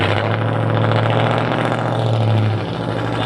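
A car engine runs loud and close, a steady low rumble with a rising hum, continuous throughout and no talking.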